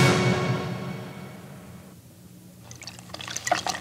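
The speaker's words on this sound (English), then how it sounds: "you got a sponge there and you wring it out into your soup bowl" Water wrung from a sponge into a soup bowl: a rushing splash at first, fading to quiet, then scattered small drips and trickles near the end, close and alone.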